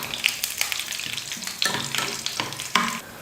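Chopped cashews fry in hot ghee, a close crackling sizzle that surges in bursts as they are stirred, with scraping strokes and a sudden drop near the end.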